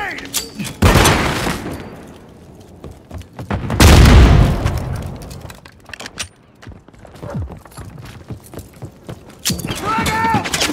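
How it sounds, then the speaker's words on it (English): A grenade explodes in the Call of Duty Modern Warfare 3 video game, a loud deep boom around the middle of a noisy combat scene with gunfire, clatter and shouted voices. "Throwing grenade!"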